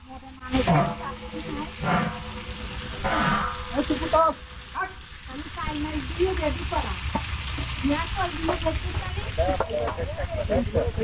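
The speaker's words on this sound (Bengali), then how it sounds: "একপাশে চিকেন ফ্রাই হচ্ছে, মানে রোস্ট করার জন্য এটা ফ্রাই করতেছে মামা এখানে" Chicken frying for roast in a large pot at a village wedding reception gives a steady sizzle and occasional stirring scrapes, with people talking loudly nearby throughout.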